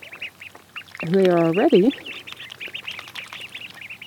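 Ducklings quack and peep loudly in a short burst while foraging for snails and grubs in a small side puddle, under a person talking over steady high chirping in the background.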